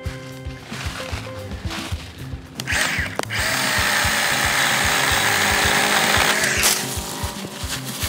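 A Litheli 40V battery pole saw buzzes through a roughly 2.5-inch log, its chain whine rising loud and steady for several seconds while cutting, then dropping off as the cut finishes, with rhythmic thumping in the background.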